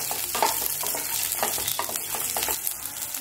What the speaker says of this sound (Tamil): இப்போ இது எல்லாத்தையும் நல்லா வதக்கிக்குவோம்.